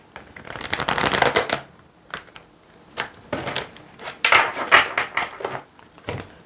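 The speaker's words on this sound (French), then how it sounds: "Ces cartes sont rondes, pas toujours faciles à mélanger." Round tarot cards are shuffled by hand in uneven bursts of papery riffling and sliding, close and moderately loud, with short pauses between the rounds of shuffling.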